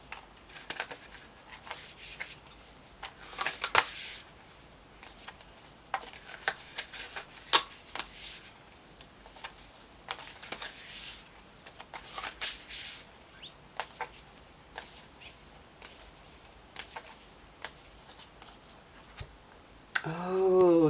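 Tarot cards being shuffled by hand, a string of crisp riffling and sliding bursts at close range, fairly quiet, with a short voice right at the end.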